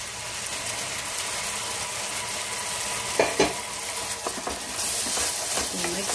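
Tomato puree, made from three ground tomatoes, goes into frying masala for a kala chana curry, and a steady loud sizzle follows. Close scraping and stirring clatters through the middle of the hiss.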